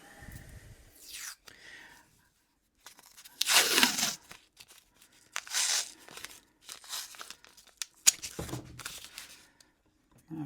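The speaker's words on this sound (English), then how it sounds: "what we'll do is we're going to tape it" Tape is pulled from a roll and pressed onto a router template for a charcuterie board handle: close, quiet bursts of tearing and crinkling separated by short pauses.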